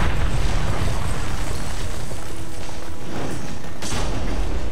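Heavy cannon fire booms through a Dungeon Siege III battle on a mountain path, a dense, continuous rumble of low explosions with a sharper burst near the end, loud and close.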